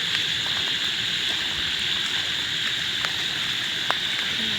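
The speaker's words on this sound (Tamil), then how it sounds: "சரியான மழை வந்துட்டுருக்கு" Heavy rain pours steadily near a palm tree at night, a dense continuous hiss with occasional sharper drops, without talk.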